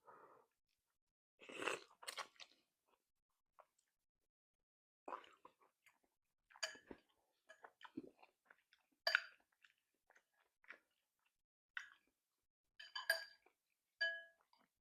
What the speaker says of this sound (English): I'm probably doing 20 chews rather than 30